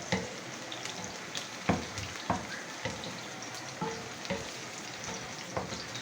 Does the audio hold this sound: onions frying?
yes